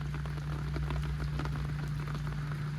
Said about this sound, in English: Rain, rain, dear friend, rain, rain. All day, all night rain.